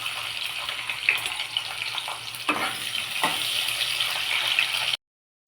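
Onions sizzle and crackle in hot oil, a steady bright hiss with occasional stirring scrapes, close by, before cutting off abruptly.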